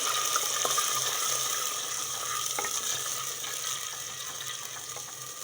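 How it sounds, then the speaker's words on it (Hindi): Water poured into a hot pan of browned onions gives a soft, steady sizzle and bubbling frying hiss, fairly quiet and fading slightly, with faint clinks. "अब मैं इसके अंदर थोड़ा सा पानी डाल रही हूँ।"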